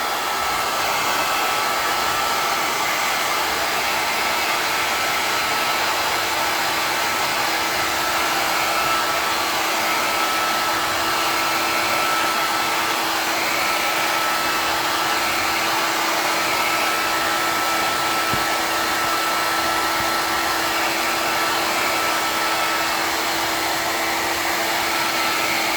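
A hair dryer runs continuously and steadily on a pine candle holder stained with bitumen, giving a loud, unbroken whirring blow for the whole stretch with no voices.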